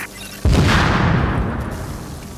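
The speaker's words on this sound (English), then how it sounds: "The lag made it look like the explosion knocked Metal back." A sudden loud explosion goes off in the video game The Division, a heavy boom that hits at once and then rolls on in a long, slowly fading rumble.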